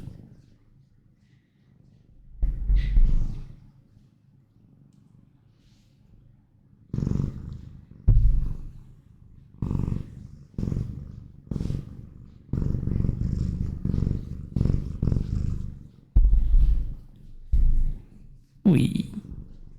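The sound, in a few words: cat purring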